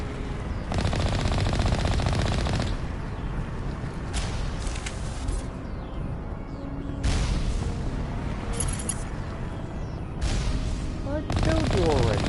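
Gunfire in the video game Mass Effect: loud, rapid automatic bursts and single shots come in waves, with brief pauses between volleys.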